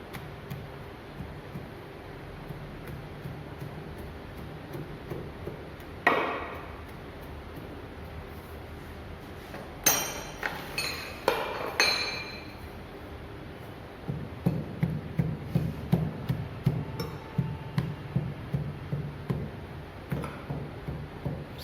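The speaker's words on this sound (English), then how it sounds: "the pin type ram, the molding sand is being rammed" Pin-type rammer compacting molding sand for a split-pattern casting mold, heard as a few soft thuds early, then a near, steady run of rhythmic ramming blows over a quiet background.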